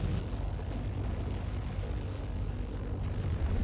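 Laser fire destroying a ship's engine in Star Citizen gives a low, rumbling, explosive roar that stays heavy and continuous throughout, with a sharper burst near the end and no speech.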